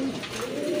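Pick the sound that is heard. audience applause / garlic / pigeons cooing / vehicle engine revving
pigeons cooing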